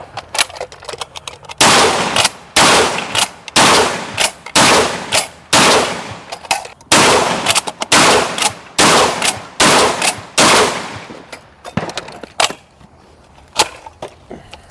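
A Çelik Arms Buck Master Gen 2 M shotgun fires Remington 00 nine-pellet buckshot in a long, rapid string of loud, sharp blasts, each cutting off quickly before the next.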